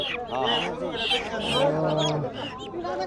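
Domestic ducks quacking up close amid a busy rural riverside market, mixed with people talking around them.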